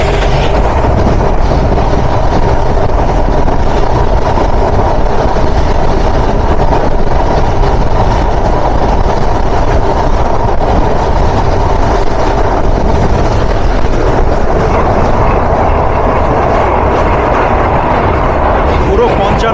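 The Ruposhi Bangla Express runs along the railway near the Buriganga River with a constant loud rumble and rushing wind noise. The dense roar lasts throughout with no breaks.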